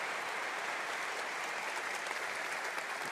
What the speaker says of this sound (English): I'd really like to give them a round of applause